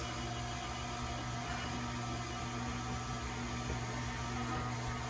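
A KitchenAid stand mixer running on its low stir setting, giving a steady motor hum and whir that stays even and continuous, with no talk over it.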